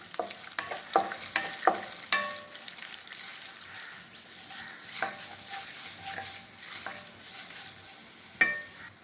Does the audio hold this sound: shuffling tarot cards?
no